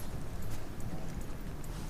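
Soft, regular clip-clop of a horse's hooves during a dressage schooling session, moderately distant, over a faint background hiss.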